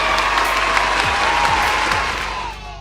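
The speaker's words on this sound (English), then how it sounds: "Let's give everybody a round of applause" Applause at a virtual vacation Bible school game session, a steady wash of clapping with light cheering that thins out toward the end.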